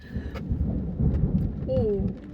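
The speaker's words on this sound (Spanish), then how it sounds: "Está tronando bastante" Low rumbling thunder rolls through a storm in Puerto Rico, a deep continuous growl with rain-like hiss, while people talk quietly over it.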